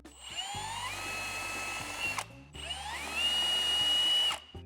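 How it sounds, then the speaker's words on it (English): A power drill with a 3/16-inch bit whirs close up in two sustained bursts, its pitch climbing as it pre-drills about 1/4 inch into a wooden railing post, with a short pause between. "Now we're gonna use the 3/16 drill bit to pre-drill for the DriveTite screws."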